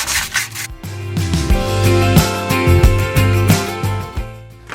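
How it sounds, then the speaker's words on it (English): A wooden farmhouse decor piece made from trash is sanded smooth by hand. Steady scratchy rubbing strokes run close and loud, with sustained tonal sounds underneath. "I'm going to just give it a sanding, smooth it all out."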